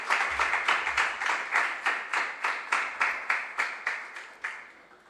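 Audience clapping for school teams at a junior science and maths quiz regional qualifier, a steady run of about a dozen sharp, evenly spaced bursts, moderately loud with no talk over it.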